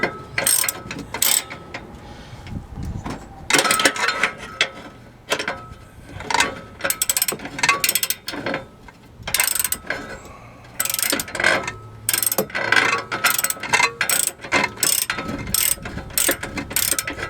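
A ratchet wrench tightens sway bar bushing bolts on a Chrysler 300, giving repeated bursts of quick, close metallic clicking strokes with brief pauses between them throughout.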